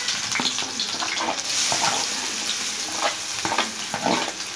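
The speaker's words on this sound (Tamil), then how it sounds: "வெங்காயம் நல்லா வதங்கணும்." Onions fry in hot oil in a pan for a Tamil semiya egg biryani, a loud, close, steady sizzle with crackles and stirring scrapes throughout.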